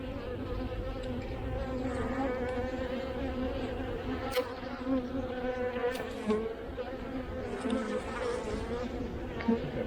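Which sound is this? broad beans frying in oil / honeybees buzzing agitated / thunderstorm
honeybees buzzing agitated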